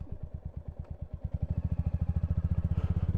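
Royal Enfield Hunter 350 motorcycle on a countryside ride: a close, thumping single-cylinder exhaust pulses steadily, the beat quickening and growing louder as the engine revs up.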